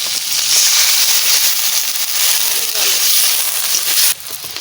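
Water poured into a hot pan of frying desi magur fish gives a loud, steady, broadband hiss that holds for about four seconds, then drops off sharply into a quieter simmer.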